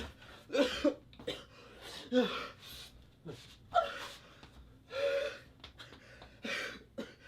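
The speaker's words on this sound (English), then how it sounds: "Stop coughing, lad." Repeated harsh coughing fits with gasping breaths between them, close and fairly loud.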